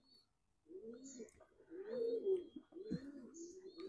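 A pigeon coos close by, soft low throaty calls repeating over a few seconds, with faint chirps in the background.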